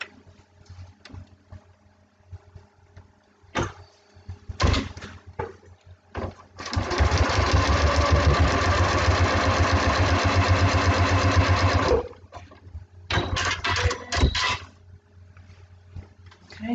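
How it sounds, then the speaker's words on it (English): A sewing machine runs steadily for about five seconds, stitching a fabric seam along a foundation paper-pieced block, with quieter handling clicks and rustles before and after. "I'm going to take that over to the machine, and I'm going to sew on the line between 1 and 2"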